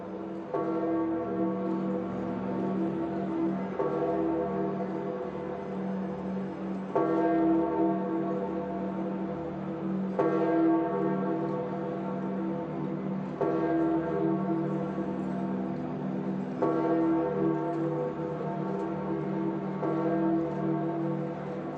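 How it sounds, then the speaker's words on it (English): Church bells of St. Peter's Basilica ring out at a papal funeral in a steady, repeating peal, strong overlapping strokes every few seconds over a sustained resonant hum, loud and continuous with no talk. "we listen to the magnificent bells of St."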